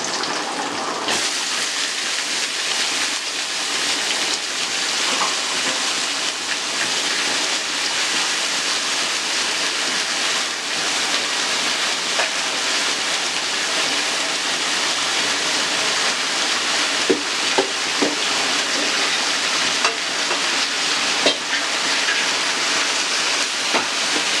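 Washed, chopped ponnanganni greens hit a hot pan and are stirred, giving a steady, close sizzling hiss with faint scraping clicks throughout. No one speaks.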